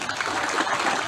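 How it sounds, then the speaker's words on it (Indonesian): Gathered audience at a late-night talk assembly applauds two groups, a dense even wash of clapping held steady throughout this short moment. "tepuk tangan untuk dua kelompok."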